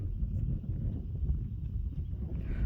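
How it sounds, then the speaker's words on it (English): Strong wind gusts across a rooftop under construction, a low, steady buffeting roar pressing against the microphone with no clear voice over it. "Wow, the wind is just really wicked up here"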